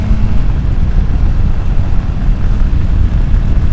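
A 2024 Royal Enfield Himalayan 450 motorcycle on the move, its engine a steady loud drone blended with heavy wind rush along a bumpy handling road, with no talking.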